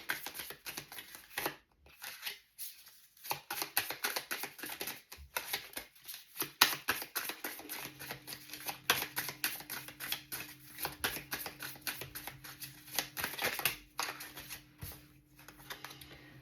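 Tarot cards riffle and flutter in rapid continuous patter as they are shuffled, close and steady for a long stretch with a few brief pauses, and no speech.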